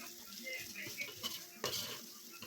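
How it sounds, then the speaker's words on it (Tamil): Red chilli and onion being stirred in a pot for mutton biryani: a few brief scraping spoon strokes and light clinks over a soft, quiet sizzle. "இப்போ அதையும் நல்லா மிக்ஸ் பண்ணி விட்டுடலாம்."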